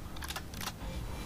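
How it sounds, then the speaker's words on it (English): Quick mechanical clicks and clacks of a weapon being reloaded in the shooter Crysis 2, a few sharp metallic snaps close together, heard fairly faintly with no talking. "I like the way the gun looks when you're reloading this gun"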